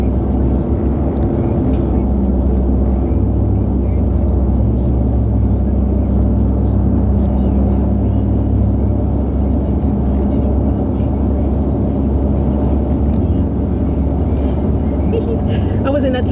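A car driving on a three-lane motorway in Miami, Florida, with a steady low road rumble and engine whir heard from inside the cabin, continuous and unchanging for the full stretch.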